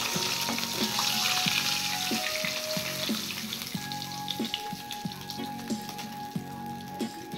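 Small chara fish frying in hot oil for a Bengali fish curry, with a steady, moderately loud sizzle and crackle over a faint background hum with regular soft pulses.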